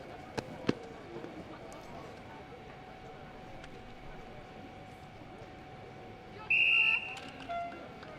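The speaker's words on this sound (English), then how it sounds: "the sound of the whistle that you hear there is going to be the start of the next hurdles race" One sharp, sustained whistle blast starts a hurdles race at a school athletics meet, cutting through faint outdoor background noise, with a couple of brief clicks earlier.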